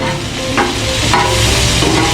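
Chopped onion sizzling in a hot pan with a little garlic butter, a steady loud fry hiss broken by a few sharp stirring scrapes and clinks of a utensil, with no talking.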